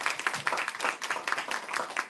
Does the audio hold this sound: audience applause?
yes